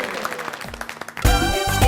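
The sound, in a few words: audience applause on a cooking show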